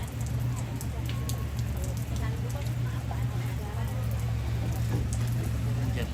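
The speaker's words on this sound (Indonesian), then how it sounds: "Hujan." Rain falls steadily during preparations for a funeral service in a village, a dense, even patter on surfaces with a low electrical hum and faint background murmuring underneath.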